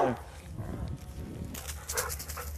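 A dog barks a few times nearby, sharp repeated yaps with some background rustle and a faint voice.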